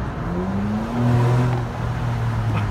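2013 Ford Explorer with a muffler-delete exhaust accelerating, a loud, raspy engine drone rising in pitch and then holding, heard close from inside with no talk.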